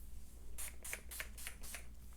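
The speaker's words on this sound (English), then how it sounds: "So I'll just kind of spray that all around" A can of hair styling spray is sprayed onto the ends of short hair, giving about six short hissing bursts in quick succession, fairly faint and close, with no talking.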